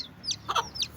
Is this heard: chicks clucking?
yes